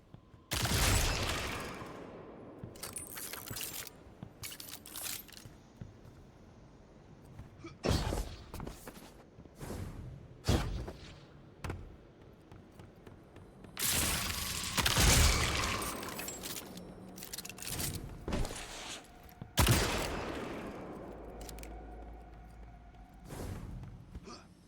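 Gunfire aimed at attacking moths aboard Savathûn's ship in Destiny 2 Witch Queen: scattered loud shots and short bursts at irregular intervals, separated by quieter stretches of ambient game sound.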